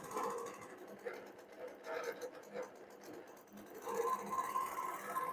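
A computerized long-arm quilting machine stitches with a steady mechanical whir and rhythmic hum that fluctuates and then settles into a sustained tone, fairly faint, with some talk over it.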